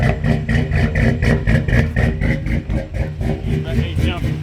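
A turbocharged Chevrolet TrailBlazer SS engine idles just after start-up, a steady rhythmic loud rumble with pulsing exhaust beats, while someone talks over it.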